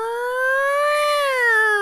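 A person's voice imitates a siren, a clean wailing tone that rises and falls slowly and stays loud and close throughout, with no other sounds.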